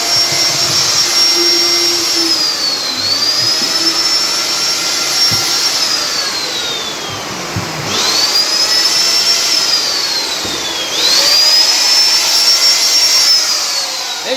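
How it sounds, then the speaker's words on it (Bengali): A machine blows dust off in a factory, giving a loud, steady whooshing roar close by with a high whine that rises and falls in several repeated sweeps. "ধুলো ঝাড়ছে মেশিন দিয়ে।"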